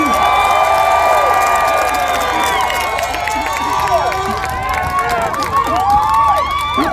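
A large political rally crowd cheers and shouts continuously, with whoops and overlapping voices rising and falling in a loud, dense roar.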